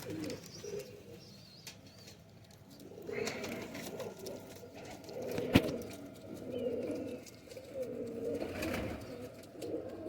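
High flyer pigeons coo softly in low, murmuring bursts, faint and close, with a few rustles and a sharp click partway through.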